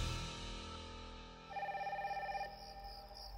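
A telephone ringing with an anonymous call, a sustained electronic ring tone that starts partway through over a low background and lasts about a second.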